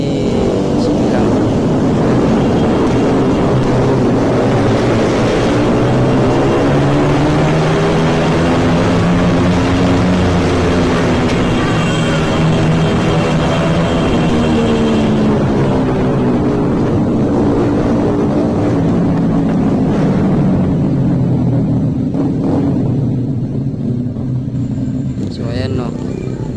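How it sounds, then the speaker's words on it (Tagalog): Loud motorcycle engines roar and pass through the Kaibiyang Tunnel, their echoing drone rising and falling as several bikes go by, with the reverberant rumble filling the enclosed space throughout. "narinig ko may ingay ng mga motor"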